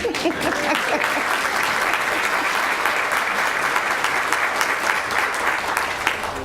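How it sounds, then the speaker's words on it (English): A school board meeting audience gives a long round of applause for students, parents and advisors, steady dense clapping filling the room with no pauses. "Let us give these talented students and their parents and dedicated advisors a round of applause."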